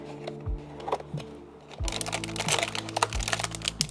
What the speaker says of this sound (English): the Turtle Beach Vulcan 2 10 keyless Pro. This one right here is a linear switch.